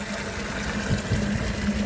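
A Collomix Aqfix water dispenser runs water into a container on a building site, a steady gushing flow with a low pump hum underneath, close and continuous.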